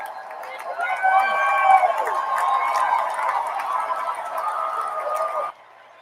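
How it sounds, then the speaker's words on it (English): A crowd at the Democratic National Convention roars and cheers loudly in a dense, sustained wash of voices that cuts off suddenly near the end. "I need everybody to understand the extent to which this crowd is"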